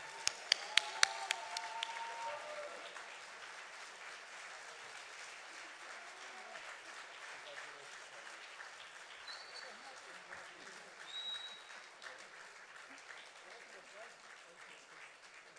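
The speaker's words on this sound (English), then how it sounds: "let's give him a big round of applause again as we say thank you for his service to the Scout movement" Applause from the audience in a plenary session at a scouting conference, a few sharp claps up front and then a long, even patter of clapping from a large hall, moderately quiet.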